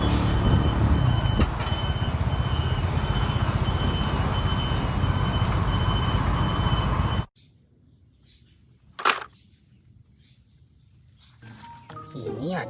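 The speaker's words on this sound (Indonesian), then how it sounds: "ini ada mobil kontainer teman-teman" A container truck idling or moving nearby: a continuous, loud engine drone with faint repeated beeping. It stops suddenly, leaving near-silence with a brief click, then a person starts talking.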